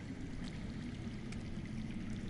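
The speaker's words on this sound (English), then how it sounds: "I hear water. From underground." Underground water in the Game of Thrones video game streams steadily with a soft, constant rushing wash, faint and distant-sounding, with no voices.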